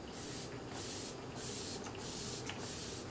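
NYX setting spray is misted onto a face in four short, evenly spaced hissing bursts, close by but fairly faint.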